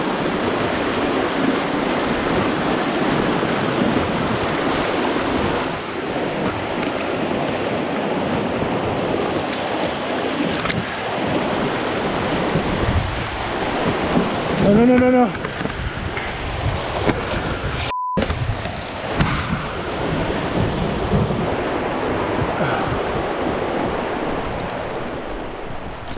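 A narrow, steep river rushes over rocks in a continuous loud churning roar with wind buffeting, close by, and a single short spoken word partway through.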